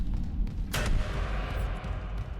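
Weapon fire in the game Dead Space Remake blasting apart a barricade: one sharp loud burst over a steady rumbling game ambience, no talk.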